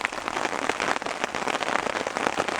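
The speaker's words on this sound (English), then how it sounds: "Get out here behind the hail bouncing off the We've got hail balls there." Hail pelting down steadily during a canoe trip in Algonquin Park, a dense, continuous patter of hailstones striking and bouncing off surfaces nearby, with no talk.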